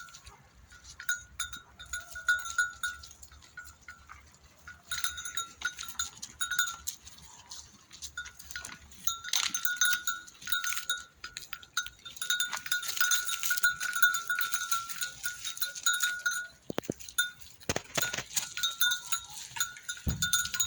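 A flock of sheep and lambs bleat nearby in a greenhouse while small bells clink and jingle continuously, with scattered overlapping animal calls across the whole stretch.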